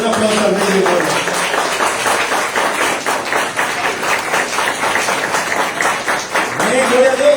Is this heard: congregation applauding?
yes